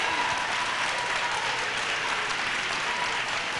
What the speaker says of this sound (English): Clap your hands and give God a praise.